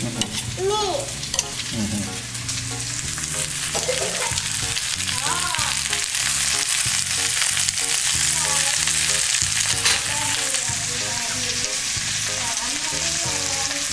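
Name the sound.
potatoes frying in butter in a pan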